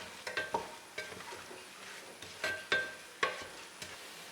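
Beef nihari masala with black pepper powder fries quietly in a pan, a faint sizzle under scattered sharp scrapes and clinks of a spoon stirring, in short bursts with pauses.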